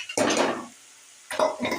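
Bottle gourd pieces tumble into a cooking pot for a prawn curry, giving two short bursts of clattering and rustling separated by a brief quiet gap, close and moderately loud.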